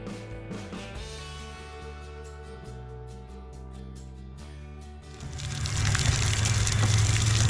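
Water gushes out of a flushed sprinkler system zone during spring maintenance, a steady loud rushing that swells abruptly after a quieter stretch of clicking and humming.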